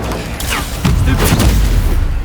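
Incendio fire spell cast in Hogwarts Legacy, a sudden loud whooshing burst with a booming crackle that swells midway and lingers as a roaring rush, no voices.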